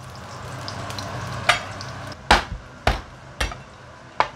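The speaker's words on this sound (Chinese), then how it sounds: "掉埋落去，爆香咗啲料頭先" A big piece of ginger, smashed shallots and garlic frying in oil in a hot wok: a low steady sizzle broken by several loud, sharp knocks and scrapes of the spatula against the wok, close, with no talk.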